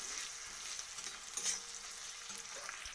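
Chopped onion fries lightly in a pan with a soft, even sizzle. Faint stirring scrapes come and go over it, and the sound is quiet and close with no voices.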